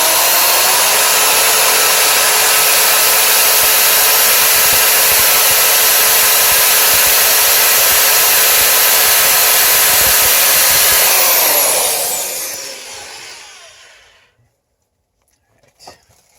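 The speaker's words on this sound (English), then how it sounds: "I had to drill up here, drill extra holes" A power drill whirs loudly and steadily at high speed, drilling extra holes in a television, then winds down to near silence at the end.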